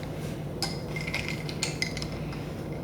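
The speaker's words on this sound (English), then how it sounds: "So I'm just gonna stir it up." A straw stirs Thai iced tea in a glass, giving soft clinking and swishing taps against the sides for a few seconds over a steady background hum.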